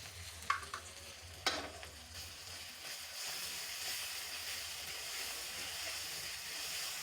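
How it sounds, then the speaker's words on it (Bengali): Ginger-garlic-cumin spice paste sautéing in a pan for a village-style vegetarian curry, a faint steady hiss and sizzle with a couple of sharp clinks of stirring early on. "এই নিরামিষ রান্নাতে প্রথমে তরকারিটা কষিয়ে নিতে হয় মশলাটা।"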